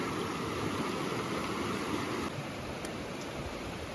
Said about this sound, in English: First crossing of Moosehorn Creek.